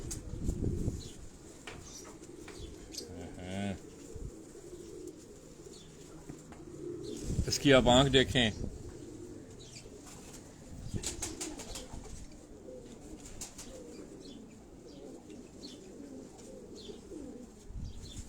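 Breeding pigeons kept at home coo softly with low, repeated calls and rustle nearby, with a brief louder flutter partway through while someone speaks over them.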